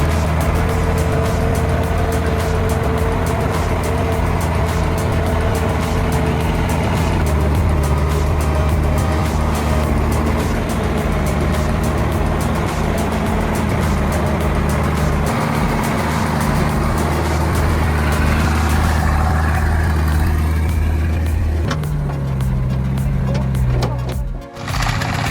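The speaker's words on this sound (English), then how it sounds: "The lumbering farm trucks, loaded with giant logs, leave the forest one after another" Heavy log trucks loaded with giant logs grind through a forest one after another, a loud steady diesel engine drone with low rumbling harmonics that holds for most of the stretch, then shifts lower and briefly drops near the end.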